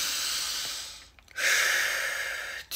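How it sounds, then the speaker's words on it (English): A long breath drawn in while a bedtime story is read aloud, a soft airy hiss that fades into a brief gap and then a second, stronger breath, close and quiet with no talk over it. "Piglet took three deep breaths."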